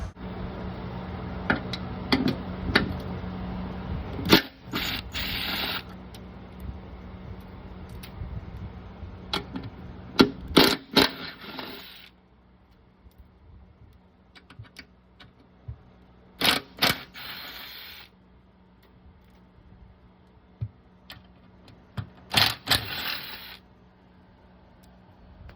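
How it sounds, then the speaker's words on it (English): Bolts come out of the shifter plate on a Chevrolet C6 Corvette, with quick clusters of metallic ratchet clicks and tool taps separated by quiet pauses, close and fairly loud, with no talking. "what I'm gonna do, remove all these bolts, get this plate out of the way"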